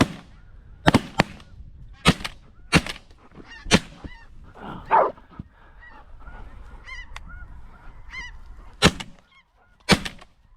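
Several loud, sharp shotgun blasts from a waterfowl hunt for snow geese and ducks ring out singly and in pairs, with geese honking and calling in between the shots.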